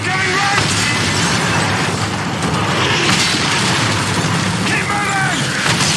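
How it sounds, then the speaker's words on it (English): Mortar blasts rock a Call of Duty: Modern Warfare 3 battlefield, a continuous loud roar of explosions and rumbling debris with shouted voices faintly mixed in. "Mortar incoming, rats!"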